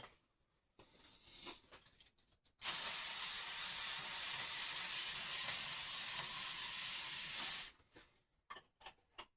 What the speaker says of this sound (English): Let's spray this down with some cooking spray.